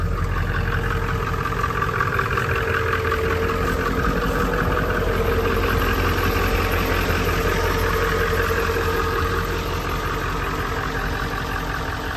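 A 1997 Ford F250 with the 7.3 diesel engine idles after a cold start on a frosty morning, a loud, steady low rumble with a mechanical clatter running unbroken throughout.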